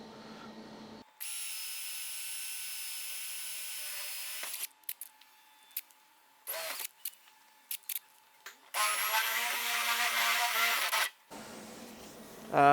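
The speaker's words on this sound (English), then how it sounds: "I'm just going to drill a hole into where the marked out cut is" Power drill boring a hole through a Dodge Ram 1500 truck airbox, running in two loud bursts with a few short stop-start pulses between them, close up and alone.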